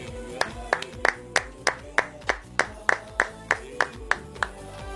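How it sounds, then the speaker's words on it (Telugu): A group claps in a steady rhythm of about a dozen sharp, evenly spaced claps during a birthday cake cutting, with a faint hum of voices and music beneath. "అందరూ కూడా చప్పట్లు కొట్టు."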